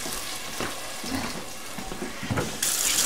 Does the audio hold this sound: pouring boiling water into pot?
yes